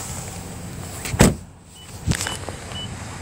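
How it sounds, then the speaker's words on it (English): Hood and trunk release on a Nissan Altima pop open, two distinct mechanical clunks about a second apart, near and clear in a quiet setting. "Okay, we'll pop the hood,"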